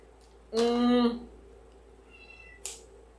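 A pet cat gives one loud, drawn-out meow close by, followed by a fainter second call, in a quiet indoor room while someone crafts a Halloween wreath.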